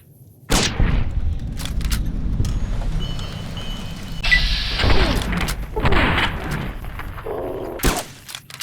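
Gunfire rings out in Fallout New Vegas, with loud booming reports and cracking bursts repeating across the scene, layered over steady game ambience and clattering effects.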